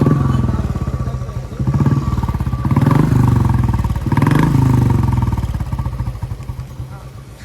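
A motorcycle engine revs up and down in bursts, loud and close, during a ride out to a village. Voices chatter over the engine noise.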